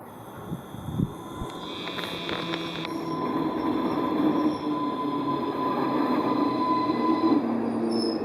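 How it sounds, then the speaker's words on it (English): A GWR Class 230 battery-powered train pulls into a station, rumbling louder as it nears, with wheel squeal, a sustained high whine and brief clanks early on. "Great Western battery powered train, or the Class 230, and it's coming right now"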